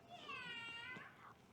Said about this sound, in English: Look, it's a poor little kitty cat.